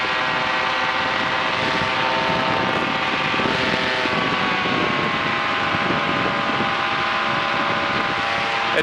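Airplane converted to run on a Yamaha Phazer snowmobile engine flying close by, a loud, steady droning engine and propeller roar with no voices.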